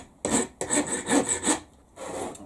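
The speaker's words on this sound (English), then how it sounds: "Get a file. Let me just take these burrs off before they hurt anybody." A hand file rasps burrs off metal in several quick back-and-forth strokes, close and fairly quiet, with short pauses between strokes.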